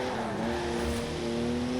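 Three-litre straight-six car engine in Forza Horizon 4 holds a steady, loud droning note with a clear sustained pitch and faint tire noise, continuous throughout with no talk.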